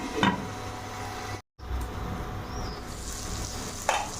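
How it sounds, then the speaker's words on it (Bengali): Spice masala sizzles hard in a hot pan, a dense continuous frying hiss with stirring scrapes, broken by a brief silence before the sizzle resumes. "মশলাটা আর একটু কষে নেব"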